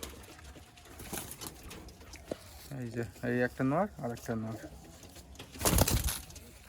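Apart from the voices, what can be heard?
Malwai pigeons cooing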